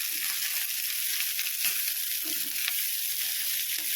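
Sona masuri rice being tossed into vegetable fried rice over high flame, a loud, steady broadband sizzle with soft stirring scrapes running through it, no voices.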